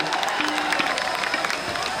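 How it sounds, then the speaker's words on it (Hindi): Audience at an outdoor stage show in Buxar clapping and cheering steadily for two seconds as a crowd roar, dense and continuous, with a voice faintly mixed in. "एक बार जोरदार ताली अश्विनी चाचा खातिर बजा दी लो"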